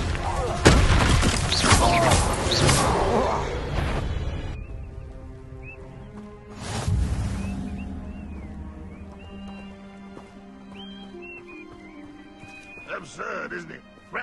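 Confringo blasting spells from Hogwarts Legacy, booming explosive bursts near the start and again midway, loud and close, with voices talking in between and ringing game tones after.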